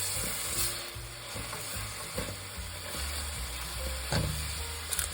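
Salted onions sizzle softly in a soup pot while a spoon stirs them, with a faint steady fry under intermittent scraping and clicking knocks against the pot.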